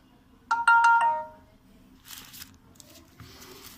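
A Moto E4 Plus smartphone powering on plays a brief, bright startup chime of a few rapid tones, followed by softer rustling and handling noise.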